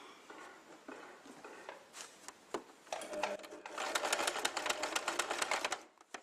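A sewing machine stitches a buttonhole in short bursts of rapid, close mechanical clatter, pausing briefly before a longer continuous run that stops abruptly at the end.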